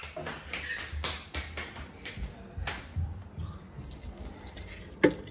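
A tap runs into a sink while a child washes their hands, with splashing water bursts that fade and a single clatter near the end.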